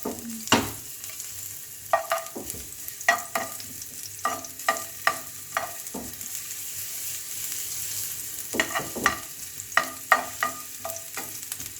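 Ginger frying in a pan for chicken fried rice, a close sizzle broken by a brisk series of spatula scrapes and clinks that come in bursts, with no voices.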